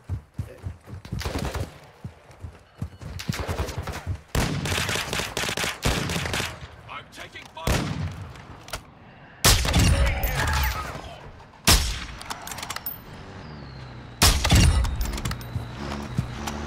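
In a video game, bursts of gunfire crack out repeatedly: rapid automatic volleys and heavy single shots come loud and close, separated by short pauses, with voices speaking over the action at times.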